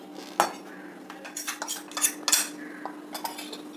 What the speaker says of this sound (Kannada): ಇದನ್ನೊಂದು ಪ್ಲೇಟಲ್ಲಿ ತಗೊಳ್ತೀನಿ.